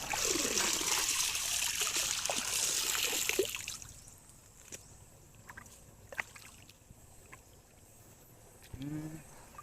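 Water flows loudly and steadily for a few seconds, then drops to softer trickles and gurgles outdoors, with a brief voice near the end.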